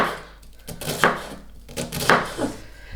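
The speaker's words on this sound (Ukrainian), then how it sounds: "Ось так дрібненько я нарізаю цибулю" Knife finely chopping onion on a board, quick strokes clustered in short bursts with pauses between, close and fairly crisp, no talking.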